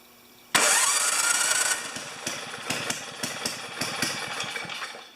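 An Ariens snowblower engine fires up on its electric starter with an abrupt loud start, then settles into a steady idle with rhythmic popping pulses, close by and with no talking.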